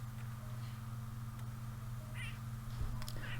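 Cats meow in a video game, two or three short high calls over a steady low background hum, with no talk.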